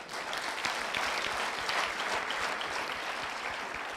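Sustained audience applause fills a hall at an event with Rwanda's President present, a dense, steady wash of many hands clapping at even loudness throughout with no talk over it.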